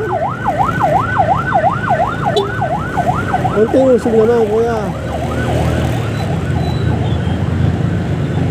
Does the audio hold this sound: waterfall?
no